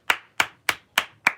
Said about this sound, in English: Sorry, I had to clap.